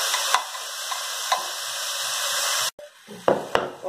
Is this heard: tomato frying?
yes